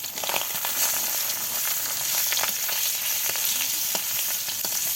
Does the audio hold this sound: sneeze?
no